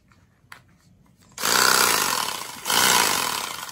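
A small Ryobi lithium cordless power saw cuts a slit in a dried gourd, starting abruptly and buzzing loudly and close for about two seconds, briefly easing, then surging again, with a few faint clicks beforehand.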